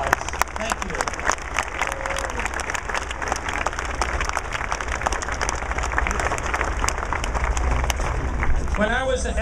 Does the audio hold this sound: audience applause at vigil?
yes